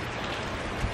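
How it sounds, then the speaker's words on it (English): Steady rain falls outside on a wet, grey day, a dense continuous hiss of drops without pause or talk. "it's a very rainy, not a very nice day"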